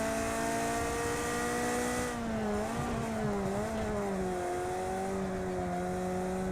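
A Ferrari race car engine in the video game Project Cars 2 drones steadily, its pitch dipping and rising as it shifts, with a whining gearbox harmonic close up.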